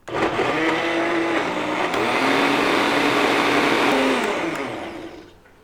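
A blender whirs steadily while grinding half an onion with about four spoonfuls of water, along with radish, for a green onion kimchi seasoning. The motor runs loud and continuous for about five seconds, then winds down.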